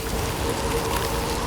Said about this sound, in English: I think it's just rainy right now.